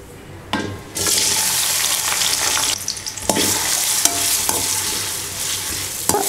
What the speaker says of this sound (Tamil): இந்த வெங்காயம், தக்காளி, பச்சை மிளகாய் எல்லாம் சேர்த்துட்டு ஒரு 2 நிமிஷம் நீங்கள் வதக்குனிங்கன்னா போதும்